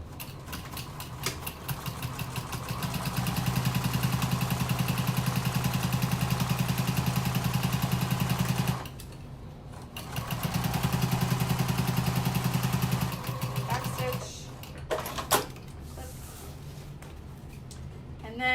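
A sewing machine stitches a 1/2 inch seam across the top of a slouchy tote bag, running in two steady mechanical bursts with a brief pause between, close and fairly loud, then trailing into softer handling clatter.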